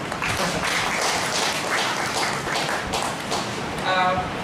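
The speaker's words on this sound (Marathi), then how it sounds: "अभिषेकसाठी टाळ्या वाजवून टाईप आहे." An audience claps in applause during a financial literacy class, a brief patter of hands mixed with talking voices.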